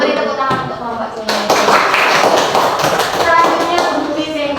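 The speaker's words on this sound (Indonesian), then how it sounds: "Beri tepuk tangan untuk kelompok C." A group of people in a classroom coaching session applauds after a voice speaks, a dense burst of hand clapping that starts partway through and carries on to the end, with talking mixed in.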